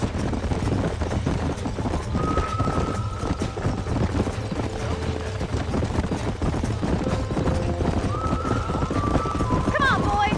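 Horses from the video game Red Dead Redemption gallop with constant rapid clip-clop hoofbeats, joined by a couple of neighs, under game music and speech.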